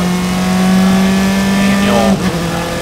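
Race cars in an SCCA IT qualifying race at Mid-Ohio, the number 24 and number 12 cars battling: a loud, sustained engine drone holds steady, then a pitch drop near the end as a car passes and fades.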